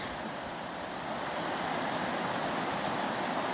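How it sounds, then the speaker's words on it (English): Continuous rushing water of a Montana creek roars with a dense, even wash of noise, loud and unbroken, with no voices. "There's a river down there."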